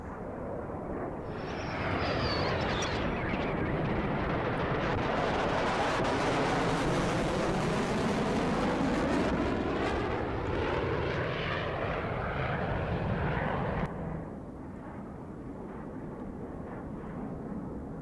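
An F-35 fighter jet flies past at the RIAT airshow with a loud, roaring jet rumble that swells, sweeps in pitch as it passes overhead, then cuts back to a distant steady roar.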